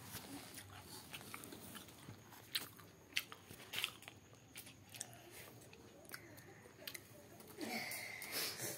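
Someone eating and chewing toast up close, quiet intermittent crunchy bites and soft chewing sounds spaced irregularly over several seconds, with faint background noise.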